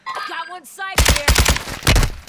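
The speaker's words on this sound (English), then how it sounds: "Taking effective fire." Gunfire in the Warzone 2 video game erupts as a loud, rapid burst of shots with sharp, punchy reports. A short radio-like voice callout comes just before it.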